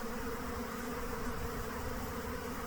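A faint, steady hum of buzzing bees, continuous and even, with no voices.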